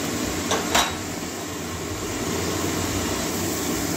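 Spices frying in oil in a pan while cooking a Bengali soybean bada curry, a steady close sizzle with a couple of brief utensil clinks near the start.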